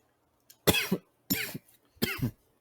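Three hard coughs in a row, close and loud, each a short burst separated by brief pauses.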